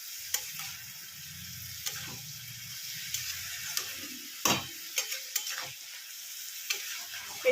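A fish head and cabbage curry is stirred and fried over a high gas flame, a steady sizzle broken by scattered sharp scrapes and clinks of the spoon against the pan, close and fairly quiet.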